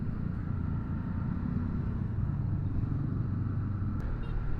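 Motorcycles ride along a foggy mountain road near Desa Kledung, producing a steady, continuous engine rumble at moderate distance with no clear individual pass-bys.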